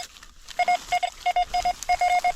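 A metal detector gives repeated short, steady-pitched beeps in small bursts of two or three, close by and with no talking.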